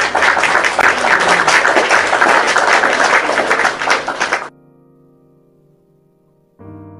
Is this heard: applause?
yes